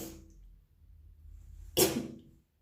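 A single sharp sneeze bursts out close by after a brief quiet breathy lead-in, then fades quickly.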